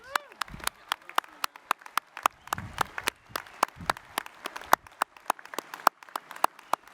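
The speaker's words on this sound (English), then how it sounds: "I ask that we give a final round of applause" Scattered clapping from a small group at a university commencement ceremony, sharp individual claps in an uneven rhythm rather than a full roar, moderately close.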